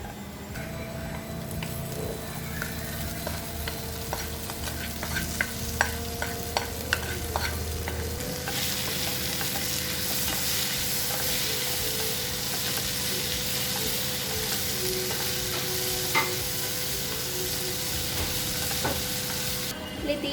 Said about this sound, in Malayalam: ഒരു മീഡിയം ഫ്ലെയിമിൽ വെച്ച് ഇത് നന്നായിട്ടൊന്ന് ഉലർത്തിയെടുക്കണം